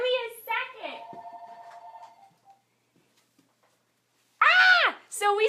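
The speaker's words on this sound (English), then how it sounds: "I get interrupted by the phone." A home landline telephone rings once, a clear electronic trill between stretches of someone talking, then silence before she speaks again.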